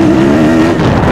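Kawasaki 2015 KX-F motocross bike engine held in fourth gear, a loud steady drone with a strong low tone that wavers slightly, close to the rider and running throughout without pause.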